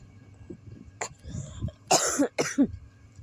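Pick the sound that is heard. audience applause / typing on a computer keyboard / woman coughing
woman coughing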